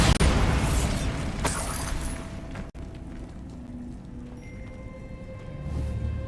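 Bombarda spell explosion in Hogwarts Legacy, a sharp burst followed by a decaying rumble and crackle, with a second brief impact cracking midway before the noise settles into quieter game ambience.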